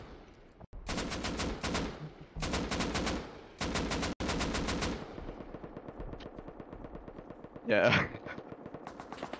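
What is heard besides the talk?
M2 machine gun firing in a video game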